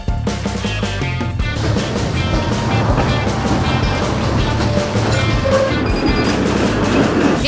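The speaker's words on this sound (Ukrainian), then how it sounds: "знаходимося у 20-му трамваї, вирушаємо з кінцевої зупинки біля Херсонського скверу" An Odesa route 20 tram rolls along its line from the terminus near Khersonskyi Square toward Khadzhybei Estuary, a loud, continuous rumble and rattle of wheels and carriage, with rhythmic clicks and steady mechanical noise filling the ride.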